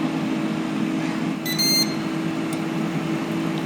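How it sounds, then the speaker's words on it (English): A short burst of high electronic beeps from a Ninja air fryer rings out once over a steady appliance hum, marking one minute left, followed by a faint single blip. "it does beep to let you know when it has 1 minute left"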